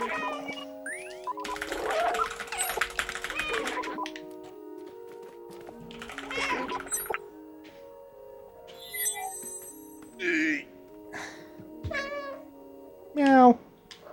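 A cat meows repeatedly inside the video game Stray, short game meows rising over a soundtrack of music and scattered in-game effects, with a louder, close meow near the end.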